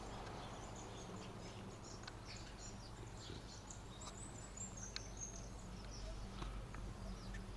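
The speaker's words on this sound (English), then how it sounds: "All I can hear is the birds chirping." Birds chirp in scattered short calls over a low steady background hum in a quiet village during a New Zealand lockdown morning, with no cars passing.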